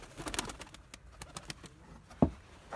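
Newly bought birds in a cage give soft, pigeon-like cooing calls amid faint fluttering and rustling, with one sharp knock near the end. Quiet and close, with no talking.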